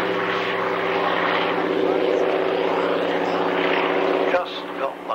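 A Hawker Sea Fury piston-engined propeller warbird flies past at the 1994 Wroughton Airfield airshow, its loud, steady droning engine roar sustained before easing slightly at the end, with a commentator talking over it.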